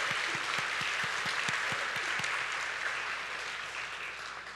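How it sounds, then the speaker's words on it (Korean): Dense, steady applause from a Korean church congregation during a Sunday worship service, a full wash of many hands that stays even and slowly fades toward the end. "박수 하십시다"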